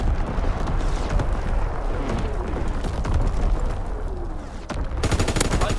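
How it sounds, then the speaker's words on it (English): Enemy artillery barrage in the video game Call of Duty WWII, a dense, loud roar of overlapping blasts and gunfire that continues without a break, with sharp cracking bursts near the end. "Incoming enemy artillery, get to cover."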